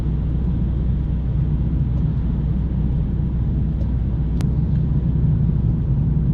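A car cruises at about 50 km/h along Sackville Drive during a road test, with a loud, steady low road and engine rumble and a single brief tick partway through.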